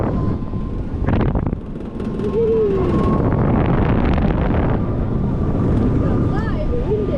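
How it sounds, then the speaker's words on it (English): Strong wind buffets the microphone in a steady, roaring rush on a fast amusement park ride at Energylandia, with a low engine-like rumble underneath and brief voices cutting through. "That is very windy."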